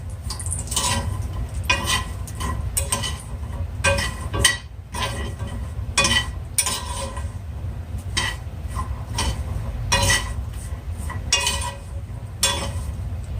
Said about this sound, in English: my walnuts are beginning to sizzle, so I'm just gonna go ahead and move them around.